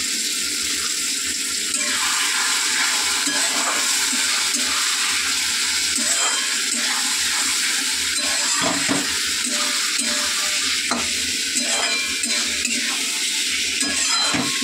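Water is poured into a sizzling pan of curry with ground spices, a steady hiss and bubbling with occasional clinks of a utensil against the pot, close by.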